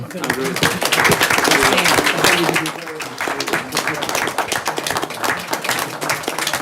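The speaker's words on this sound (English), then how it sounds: "I think we need to give Wilson County Schools a round of applause" People at a school board meeting give a round of applause, a dense patter of many hands that stays loud for a few seconds, then continues more softly while voices murmur underneath.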